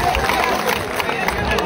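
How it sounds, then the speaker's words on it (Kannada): Loud applause welcomes visiting religious leaders at a sugarcane farmers' protest in Gurlapur, a dense, steady clatter of many hands mixed with crowd babble, close and continuous. "ತಮ್ಮೆಲ್ಲ ಜೋರಾದ ಚಪ್ಪಾಳೆ ಮೂಲಕ ಅವರು ಸ್ವಾಗತ ಮಾಡ್ತೇವೆ"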